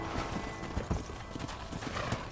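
Horse hooves clip-clop in a steady trotting rhythm across a Red Dead Redemption ranch scene, with a brief whinny, close and continuous under faint background noise.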